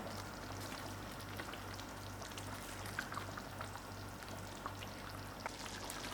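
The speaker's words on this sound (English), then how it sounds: "let the gravies to seep in and simmer for a little while" Curry gravy with roasted potatoes and brinjal simmers quietly in a pot for a traditional Mauritian cari bari, a soft continuous bubbling crackle with a low hum underneath, faint and steady.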